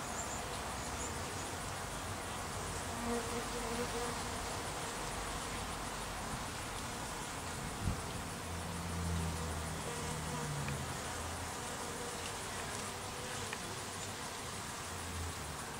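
A steady buzz of honey bees milling at the entrance of a queenless hive hums throughout, with a few faint knocks and low background noise.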